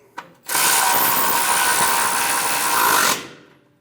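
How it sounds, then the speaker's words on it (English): A hand ratchet or power ratchet whirs continuously for about three seconds, tightening a brake line bracket bolt on a 2011-2018 Ram 1500 during a front brake hose replacement, close and loud with no talk. "Snug down the hard line to the soft line. Snug down the bracket bolt."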